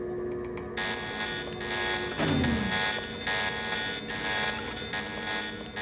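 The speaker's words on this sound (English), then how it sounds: "The alarm just closed the north door." An alarm sounding in the video game Deus Ex during a training stealth mission, a steady electronic buzzer tone giving way to a pulsing, repeating alarm that blares loudly, with a brief whoosh partway through.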